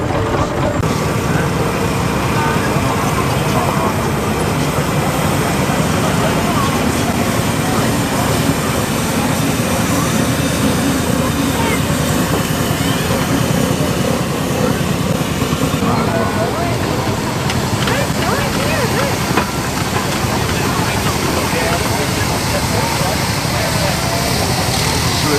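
A 1904 Case steam traction engine, built in Racine, Wisconsin, runs at an outdoor rally of tractors, steam and plant equipment, with a loud, continuous rumbling roar and hiss dominating throughout over general outdoor noise.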